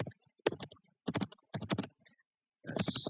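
Clicky computer keyboard typing in bursts of rapid keystrokes with short pauses between them, close and fairly loud, no voices.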